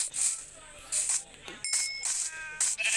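Sheep in the Minecraft video game bleat in several short, bright bursts spread across a few seconds, with faint game background sound between calls.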